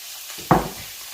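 Peppers dropped into a lightly oiled pan, giving one sudden sizzling burst that fades over about half a second against a quiet kitchen background.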